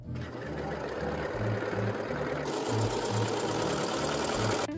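A serger runs steadily along the edge of a piece of fabric, giving a close, continuous mechanical hum and chatter for the whole stretch, with no pauses or speech.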